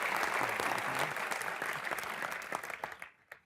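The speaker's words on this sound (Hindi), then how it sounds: "जोरदार तालियां एक बार।" Loud, sustained audience applause on a comedy show stage, a dense wash of clapping that holds steady and then thins out to scattered claps before stopping.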